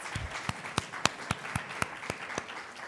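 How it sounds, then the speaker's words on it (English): Sparse, evenly spaced hand claps ring out, about one per quarter second, sounding like a small audience clapping slowly during a talk on medical marijuana in Utah. "I think we should give him a round of applause"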